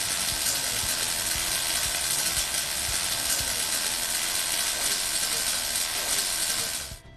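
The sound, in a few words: CO2 welding arc unstable, travel speed too slow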